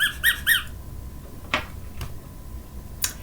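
A squeaky crab toy squeezed three quick times gives sharp, high squeaks close up, followed by a few faint clicks and taps in otherwise quiet surroundings.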